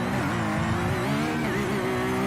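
Flat-six race car engine in a sim racing game revs upward through a steady, buzzy tone that rises briefly, loud and continuous with no talk over it.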